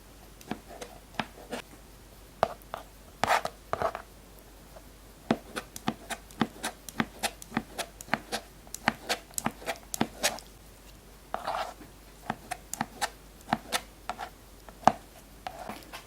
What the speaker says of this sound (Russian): Хоть и грибы не крупные уже, но все равно вот такие полосочки Маша нарезает